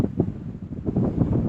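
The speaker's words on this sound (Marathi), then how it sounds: "फक्त निसर्गाचा आवाज इथे घुमतोय, वाऱ्याचा आणि खळखळणाऱ्या या लाटांचा." Strong coastal wind buffets the microphone at Korlai fort, with a low churning rush of sea waves below it, over a brief span.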